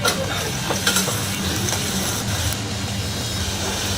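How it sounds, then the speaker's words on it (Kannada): Onions frying in a pan for masala rice pulao, a steady dense sizzle that runs the whole time, with occasional stirring scrapes rising briefly above it. No voices. "ಉಳ್ಳಾಗಡ್ಡಿ ಕೆಂಪಾಗೋ ತನಕ ಫ್ರೈ ಮಾಡಬೇಕು."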